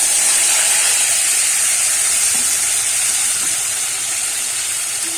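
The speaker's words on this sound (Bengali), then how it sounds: "এবারেতে ওই তেলেতে কিন্তু আমি আলুগুলো ভেজে নেব একটু" Potato pieces frying in hot oil for a Bengali bhetki fish-bone chorchori give off a steady, loud broadband sizzle and hiss that thins slightly toward the end, with no voices.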